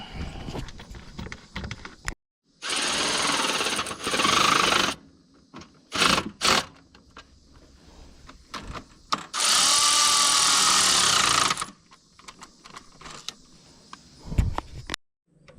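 A power tool tightens bolts on a John Deere 2210 tractor in bursts: several loud, whirring runs of a few seconds each, with short quick pulses in between and quieter clinking and handling sounds in the gaps.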